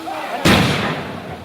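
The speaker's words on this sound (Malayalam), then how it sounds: "ഇപ്പോൾ ആ പടക്കം പൊട്ടിച്ച് ആ ഭാഗത്തേക്ക് ആനയെ കൊണ്ടുവരികയാണ്" A single loud firecracker bursts in a residential area of Palakkad to scare off a wild elephant: one sharp, close bang that rolls into a long, reverberant decay over faint background noise.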